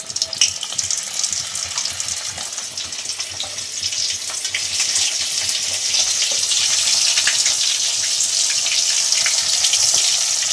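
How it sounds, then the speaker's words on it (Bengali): Flour-coated barramundi fish pieces frying one by one in hot oil in a kadai, a continuous hissing sizzle that grows slightly louder and denser toward the end, with no talking. "মাছগুলো এইবারে ময়দাতে কোট করে আমি একে একে ভেজে নেব।"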